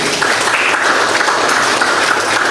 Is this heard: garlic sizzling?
no